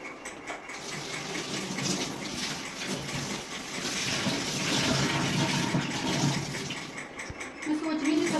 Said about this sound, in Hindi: सब्जी धो लेती हूँ